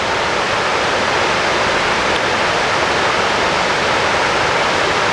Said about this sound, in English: The ravine definitely picked up some water from all this rain we've had